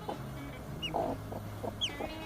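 Chickens cluck in short repeated bursts at close range, among them a young Australorp chick, with a few higher chirps mixed in over a quiet outdoor garden background.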